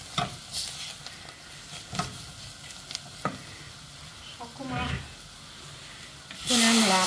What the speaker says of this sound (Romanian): Prăjim un pic și făina